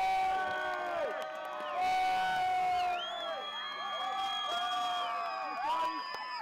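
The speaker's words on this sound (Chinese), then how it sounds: "曾永健在夹道的群众欢呼声中走入这一天的传递终点伍斯特木球会" A roadside crowd cheers at the London 2012 Olympic torch relay in Worcester, with a continuous swell of shouts, whoops and high whistles. The crowd stays fairly loud and busy throughout, with brief surges in the middle.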